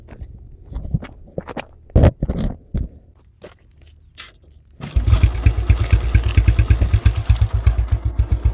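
A Yamaha FZ motorcycle starting from rest in a high gear. Scattered clunks and shuffles come first, then the engine catches into a loud, steady, rapidly pulsing thrum that carries on to the end, close up.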